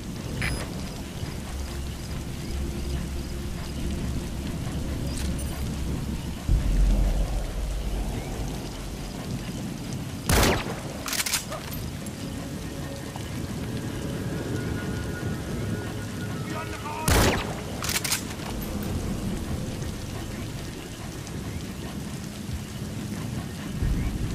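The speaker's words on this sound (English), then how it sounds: "The sound of rainfall should help to mask your footsteps." Steady rainfall in Metal Gear Solid V: The Phantom Pain, a continuous hiss with sharp cracks and low thunder rumbles at intervals, while game sounds play and a voice speaks briefly.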